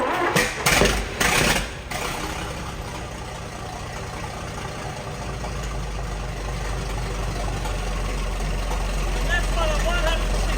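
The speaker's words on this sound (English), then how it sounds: "That's what a 168 petrol engine sounds like." A few sputtering pulls, then a small 168 petrol engine catches and settles into a steady, close idle that keeps running.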